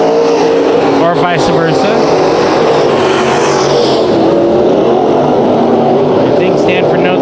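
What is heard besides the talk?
race cars at Bakersfield Speedway heat race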